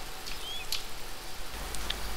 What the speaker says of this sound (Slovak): Dášť, prší.